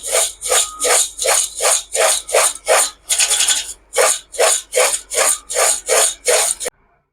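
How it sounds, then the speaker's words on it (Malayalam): Homemade Kerala mixture snack being tossed with chilli powder, asafoetida and salt, giving loud rhythmic shaking rasps in a steady run of about a dozen strokes, with a brief continuous stir midway, then stopping. "മുളക് പൊടി ഇങ്ങനെ തൂക്കി കൊടുക്കാം കായപ്പൊടിയും തൂക്കി കൊടുക്കാം ഉപ്പുപൊടി നമുക്കിതൊന്ന് നല്ലതായിട്ട് മിക്സ് ചെയ്തെടുക്കാം"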